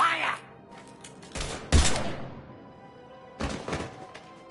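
Gunfire in the sci-fi game Mass Effect: a few separated bursts of shots with sharp impacts, spaced by quieter gaps, with character dialogue around them.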